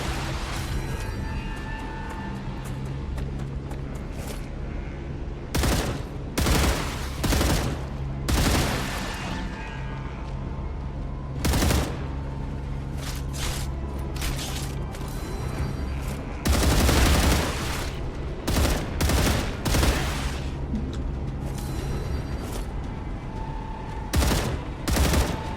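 Gunfire in StarRupture, repeated bursts of rapid shots and single sharp cracks spread across the stretch, loud and close with short gaps between volleys over a steady game background hum.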